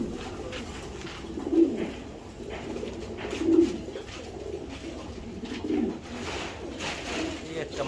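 A female racing pigeon coos in low, throaty rolls, with two distinct coos close by over a steady loft hum and a faint murmur of voices.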